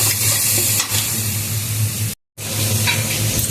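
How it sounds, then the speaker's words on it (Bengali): Onion and chili paste is stirred in a sizzling pan for mutton biryani, a close, even frying hiss with light scraping, cut by a brief moment of silence before resuming. "পেঁয়াজ আর লঙ্কা বাটাটা ভালো করে মিশিয়ে নিই"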